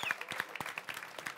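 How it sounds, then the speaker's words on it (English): Brief studio audience clapping for the guests, a quick scatter of hand claps, fairly close and steady over a second and a half. "Give a round of applause to Mike Dean and"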